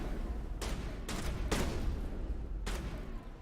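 Gunfire and a small explosion in the sci-fi video game Mass Effect: several sharp, rapid bursts crack out at uneven intervals over a constant rumbling battle bed, moderately distant and fairly quiet.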